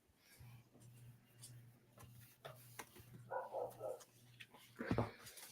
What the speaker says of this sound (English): Wish that dog shut up out there.